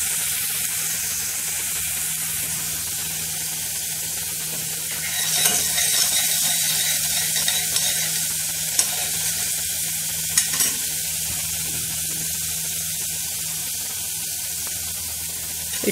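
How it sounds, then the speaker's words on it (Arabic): A large spoonful of garlic fries in a pan with a bright, continuous sizzle, broken by a few brief stirring scrapes and clicks partway through, close and loud with no voices. "هحمرها اشوحها كده تشويحه حلوه. هحمر التومه"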